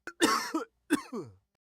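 A woman coughs twice in quick harsh bursts, close and clear, with a short rasping tail after each.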